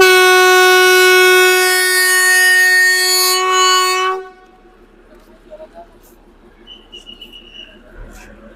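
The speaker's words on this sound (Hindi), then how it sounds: "तो ग्रीन झंडी हो चुकी है भाइयों और ट्रेन जा रही है इधर।" A train horn blares loud and close for about four seconds as a train sets off through a small wooded area, then cuts off, leaving faint clatter and low rumble in the background.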